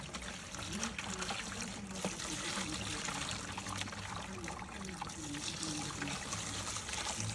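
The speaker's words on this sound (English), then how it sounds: "Pouring in a gallon of water." Water poured from a gallon container into a tub holding a brain-tanning solution with an elk rawhide, a steady continuous trickle and splash running for several seconds outdoors, with faint voices in the background.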